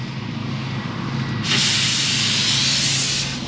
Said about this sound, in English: Just need to let the air out.